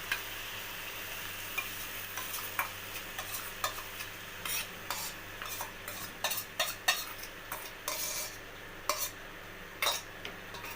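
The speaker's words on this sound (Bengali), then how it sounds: "এইবার আমি এর মধ্যে আস্তে আস্তে ডাল সয়াবিনটা মিশিয়ে দিচ্ছি।" Dal and soybean being stirred into fried spices in a pan over a low gas flame, with steady soft sizzling and a run of scraping, clinking spoon strokes, close and unhurried, no talk.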